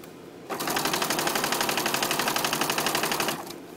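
A sewing machine stitches a quilt top to a zipper in one fast, continuous run of rapid needle clatter, close and steady for about three seconds, starting and stopping abruptly.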